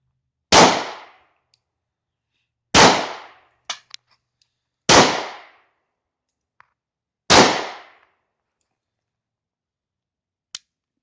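German P.08 Luger pistol fired at a range, four loud sharp gunshots spaced about two seconds apart, each with a short decaying tail, with faint clicks and clinks between shots and no talking.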